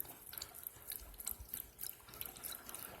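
A thirsty dog laps water on a walk, close up, with steady wet splashing and trickling through the whole stretch and no talk.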